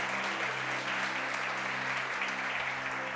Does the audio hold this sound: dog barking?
no